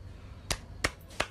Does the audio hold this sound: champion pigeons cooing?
no